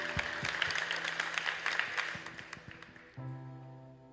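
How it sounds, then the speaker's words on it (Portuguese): A church congregation applauds with scattered claps that gradually fade, then a sustained musical tone comes in near the end. "Quem gostaria de aplaudir a Cristo por isso que aconteceu?"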